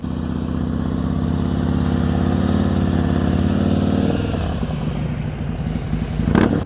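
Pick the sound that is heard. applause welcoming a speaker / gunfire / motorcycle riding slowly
motorcycle riding slowly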